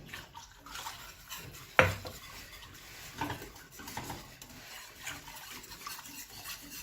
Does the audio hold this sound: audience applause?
no